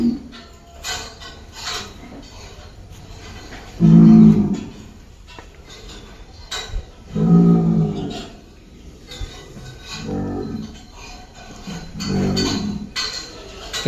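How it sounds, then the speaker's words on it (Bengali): Cattle moo loudly several times at a farm cattle yard, a few seconds apart, with quieter animal and background noise between the calls. "এইখানে সব অস্টাল আর ক্রস আর এই সাইডে আর কিছু গরু আছে প্রচুর গরু"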